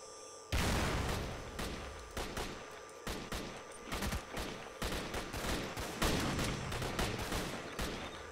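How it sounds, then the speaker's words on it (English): Gunfire crackles through a S.T.A.L.K.E.R. video game scene as a fusillade of shots in sustained, uneven volleys. It sounds somewhat distant and keeps going throughout with no break. "They're still shooting!"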